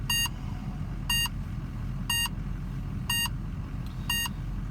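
A detector alarm sounds five evenly spaced electronic beeps, about one per second, over a low steady background hum.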